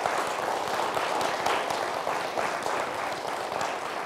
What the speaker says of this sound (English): a round of applause for Anthony Daries